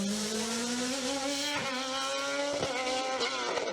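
An Osella PA2000 race car powering up the Limonest Mont Verdun hill climb, engine note climbing and dropping through quick gear changes, loud and close with a high rasping tone and no talk.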